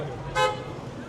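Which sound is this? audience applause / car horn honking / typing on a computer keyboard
car horn honking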